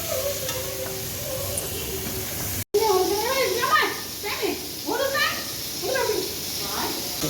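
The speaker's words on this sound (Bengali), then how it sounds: "এখানে মাছ ভাজা হয়ে গেছে" Sea prawns fry in a pan with potato and pointed gourd, giving a steady sizzle with hissing bursts, under nearby voices talking.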